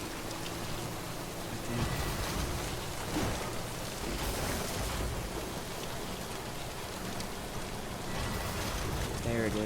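Steady rain falls in the video game Death Stranding, a broad continuous wash of drops on surfaces, with a player's voice speaking briefly over it.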